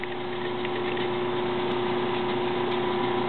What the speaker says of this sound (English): Now I plug in the AC power supply and the motor starts spinning now.